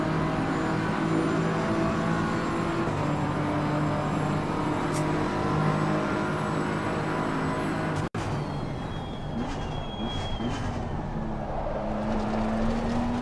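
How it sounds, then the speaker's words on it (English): Race car engine in an IndyCar-style racing video game at Indianapolis, pulling out of the pit lane; a steady, loud engine drone with shifting pitch holds throughout, with a sharp transient near the middle. "Car leaving the pit lane."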